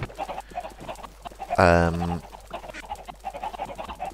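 Minecraft chicken gives a single short clucking call at close range, surrounded by soft, continuous game ambience and scattered small clicks.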